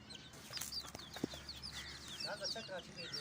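Many Ayam Cemani black tongue chicks cheep in quick, overlapping chirps at close range, a busy steady chorus with a soft low bump midway.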